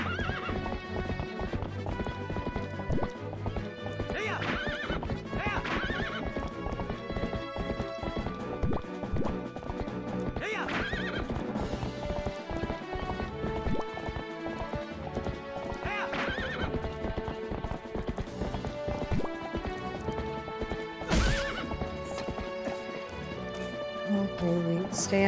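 Horse in the video game Twilight Princess galloping with dense, steady clip-clop hoofbeats, and loud neighs and whinnies breaking through several times over the game's music.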